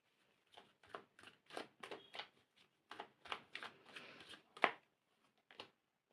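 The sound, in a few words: tarot cards being shuffled and drawn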